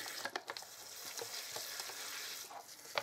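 Water poured over freshly sown sweetcorn seed pots, a steady close hissing splash with a few small drips and pats throughout, no voices.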